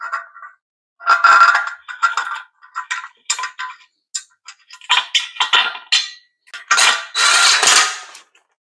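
Metal brace pieces of a JWX heavy-duty five-bike freestanding rack slide together during assembly, giving a close series of short creaks, clicks and scraping bursts with brief pauses between them.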